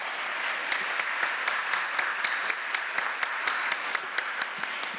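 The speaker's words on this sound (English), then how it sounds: "please join me in a round of applause as we welcome Shazeen and Kathy to the stage" An audience claps steadily in a round of welcome as two speakers come onto the stage at a live event in the Great Park, a sustained wash of applause with sharp individual claps standing out throughout.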